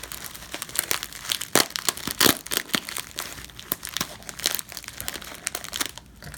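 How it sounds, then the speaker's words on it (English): Super thick bubble wrap packaging being pulled and unwrapped, loud close crinkling and crackling in uneven bursts with occasional sharper tearing snaps. "it's got the super thick bubble wrap on the inside"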